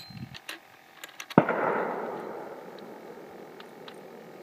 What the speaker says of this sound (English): That's Easter fireworks.